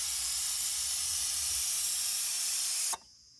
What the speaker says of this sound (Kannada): ಕುಕ್ಕರ್ ಕುಗ್ತಾ ಇದೆ